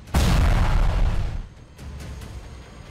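A 20-gram PETN charge detonates against a tree in a single sharp, heavy blast, followed by a rumbling, debris-filled decay that fades over a couple of seconds.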